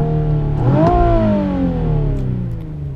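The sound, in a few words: 2017 Nissan 370Z engine revving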